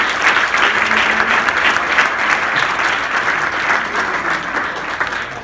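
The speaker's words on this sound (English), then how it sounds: "one last big round of applause for all 7 teams" A large audience at a student BIM competition award event gives a sustained round of applause, dense and even clapping at steady loudness throughout.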